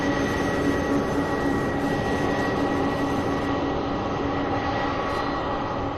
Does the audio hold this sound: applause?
no